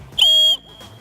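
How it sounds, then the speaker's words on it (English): A small whistle on a survival bracelet gives one short, loud, shrill blast of about a third of a second, close by, with nothing else sounding around it. "a whistle"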